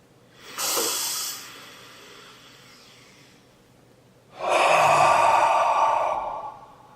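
Two close, breathy sniffs at a freshly poured Track 7 Brewing Left Eye Right Eye Double IPA, a short inhale followed after a pause by a longer, louder one.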